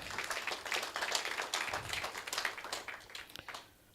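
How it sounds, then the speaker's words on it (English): Audience applause at a college research partnership launch function, sustained moderate clapping from a crowd that fades out toward the end. "give yourselves a round of applause"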